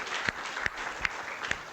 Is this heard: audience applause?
yes